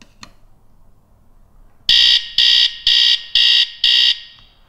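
A bed-wetting alarm sounds during a system test, giving five loud, evenly spaced high-pitched electronic beeps after a brief quiet lead-in, with no talk over it.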